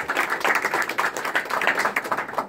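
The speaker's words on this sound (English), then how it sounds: "So a round of applause for Gregory." Audience applause at a VR/AR industry chapter meeting following a speaker introduction: dense, steady clapping from a crowd, fairly close and sustained throughout with no talk over it.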